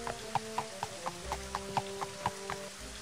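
A horse gallops in the Daggerfall Unity role-playing game during a rainy ride, its hooves striking in a steady, evenly spaced clip-clop, about a dozen beats over sustained background music.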